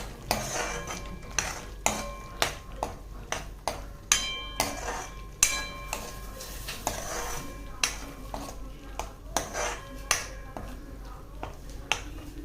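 Spices such as red chilli powder, garam masala and coriander powder being stirred into soya chunk curry in a pan, with repeated sharp scraping taps of a utensil against the pan over a low background hiss.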